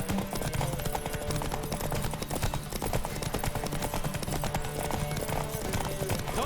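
Horse hooves galloping in The Witcher 3: Wild Hunt on PS5, a quick drumming clip-clop running steadily throughout, laid over game music and ambience with a brief whinny near the start.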